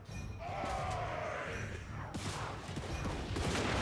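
Dwarf Thunderers fire a ragged volley of handgun shots in a Total War: Warhammer 3 battle, scattered cracks over a dense roar of battle noise, with a voice briefly heard.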